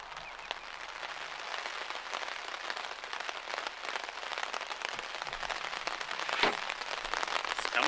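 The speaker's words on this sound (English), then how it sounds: "It's come on to rain again." Rain falls on a boat drifting up the River Wear, a soft continuous patter with scattered louder drops, faint and steady.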